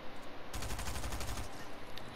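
Shotgun and sniper fire in Fortnite, a dense, loud burst of rapid shots lasting about a second in the middle, with quieter game ambience before and after.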